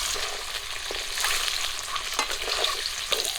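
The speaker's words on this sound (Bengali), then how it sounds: "এই যে এরকম করে তেলের মধ্যে লবণ হলুদ দিয়ে যদি ডিম ভাজা করা যায়" Close, steady sizzling of eggs frying in hot oil with salt and turmeric, broken by occasional clicks and scrapes of a spatula moving in the pan.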